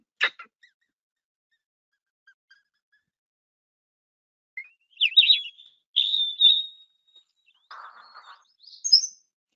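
Separate North American bird calls and songs against silence: a sharp chirp, then fast twittering phrases, a low buzzy call and a high whistled note.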